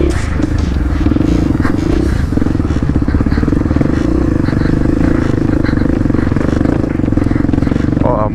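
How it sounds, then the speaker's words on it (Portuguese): A trail motorcycle engine labors loudly and continuously at low revs, nearly stalling but pulling on an off-road trail, close up, with rattling and clatter throughout. "a moto vai quase morrendo, mas traciona"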